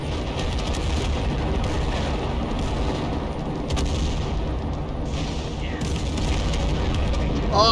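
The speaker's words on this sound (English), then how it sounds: "here goes the airstrikes" Airstrike explosions in a war video game about armored battalions in siege battles, a dense, continuous rumble of booms and gunfire with heavier blasts, loud and sustained.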